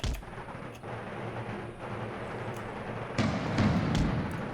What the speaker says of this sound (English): Oh, there's a mortar there.